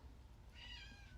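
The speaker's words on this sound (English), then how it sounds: "That's my cat." A single short meow from a domestic cat, faint and thin, rising briefly over a low background rumble.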